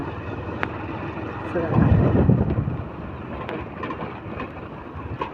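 Strong wind buffets the microphone while riding along a rough, potholed road, a constant rumbling roar that swells briefly in the middle, heard without clear speech.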